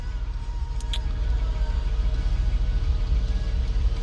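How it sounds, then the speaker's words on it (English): A car's AC blower fan motor runs with a steady low hum and airy rush inside the cabin, with a brief click or jingle near the start and no talk. "you turn on the fan motor to make sure it's working with the console"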